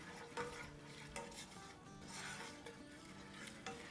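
Ginger and garlic paste sauté quietly in a pan with a faint sizzle. A spoon scrapes and knocks against the metal several times at an uneven pace.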